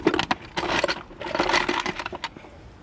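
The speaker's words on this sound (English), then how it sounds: "what I want to do is get a few of these bolts in here" Metal bolts clink and rattle while being handled during installation of an LBZ intake runner on an LLY Duramax engine, a run of sharp close metallic taps and jingles with no talking.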